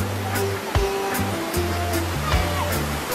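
A clear river rushes steadily nearby, a broad constant wash of flowing water heard loud and close, with sustained musical tones running underneath.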